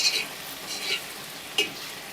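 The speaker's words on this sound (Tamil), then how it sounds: "நல்லா வதக்கிக்கணும்." Ginger garlic paste and onions sautéing for mutton biryani, a soft sizzle with a few scrapes and stirs of a spoon against the pan, close and fairly quiet, no voices.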